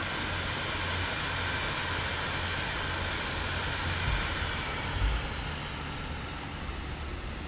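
An airplane in Microsoft Flight Simulator 2024 taxis toward the runway before takeoff, its engine a steady, broad droning roar that holds nearly constant throughout, with no talking.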